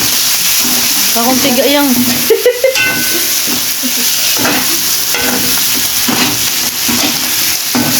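Shrimp frying in butter with garlic in a pan, a loud steady sizzle with stirring clatter throughout, while a person talks over it.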